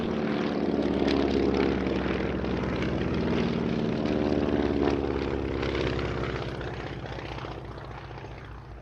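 A 1944 Beech Staggerwing biplane built for the US Army flies past at the Duxford summer airshow, its propeller engine droning steadily and loudly before easing off slightly toward the end.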